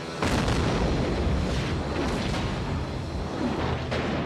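Cannon fire aboard an ironclad warship in a 1991 film battle scene, a sustained loud roar of booming blasts and rumbling explosions with no clear gaps.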